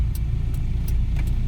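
A manual transmission car pulls away during a driving lesson, a close, steady low engine rumble with faint ticks and clicks over the top.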